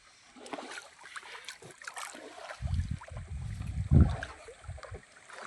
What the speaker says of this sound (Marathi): हे बघा, ही होडी अशी हलवतात.